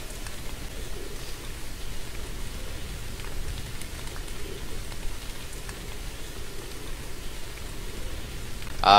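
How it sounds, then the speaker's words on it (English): Steady rain falls at night in the video game Moon Sliver, an even, continuous hiss of drops on surfaces that holds at a constant level throughout, with a brief louder burst right at the end. "Now it's dark and rainy."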